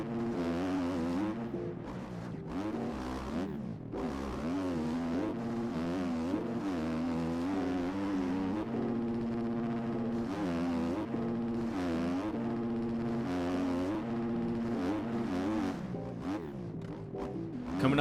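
Simulated motocross bike engines in MX Bikes race through a final lap, with steady high-pitched revving and gear shifts rising and falling, continuous and loud throughout.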